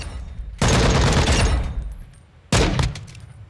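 Loud full-auto bursts from a tactical weapon in Call of Duty Modern Warfare II, a sustained burst of about a second and a half followed by a shorter second burst, close and dense.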